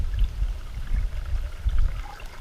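Ice-cold mountain stream water spilling off a rock along a trail in the Mount Rogers and Grayson Highlands area: a steady, close pouring rush with low gurgling, no voices.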